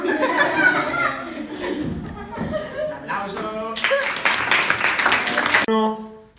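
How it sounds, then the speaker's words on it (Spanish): An audience claps and laughs at a live cultural performance, the clapping brief and scattered, then a louder burst of applause near the end, with voices talking over it. "Aplauso."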